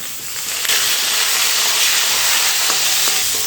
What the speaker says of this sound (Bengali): এখন আমি এর মধ্যে কয়টা সিম দিয়ে ভেজে নেব